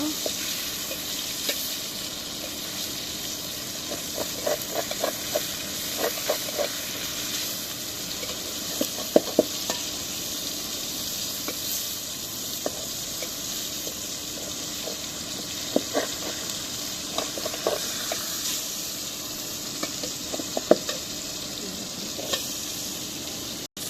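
Fish frying in a pan of hot oil gives a steady, close sizzle with scattered sharp crackles and pops throughout, and no one speaks.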